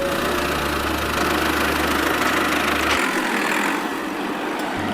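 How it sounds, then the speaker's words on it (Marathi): A steady, low mini tractor engine rumble idles continuously, its deep hum dropping away partway through while the mid-range drone carries on. "ट्रॅक्टर कोणाचा आहे?"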